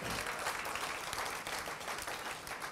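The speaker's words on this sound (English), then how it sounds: "That's worth applause." Audience applause at a school awards event, a dense, even wash of clapping from a large crowd, heard alone and somewhat distant.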